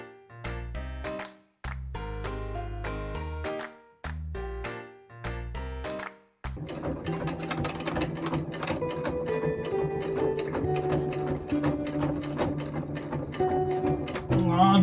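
A sewing machine stitching fabric for a seat cover starts with a few short stop-start bursts, then settles into a continuous mechanical rattle, with a voice speaking at times.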